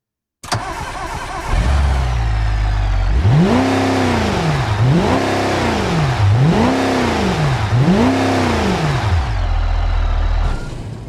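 A modest Smokey and the Bandit-era car in a driving video game starts up, then its engine revs repeatedly in rising and falling sweeps, loud and close, before dropping back to idle.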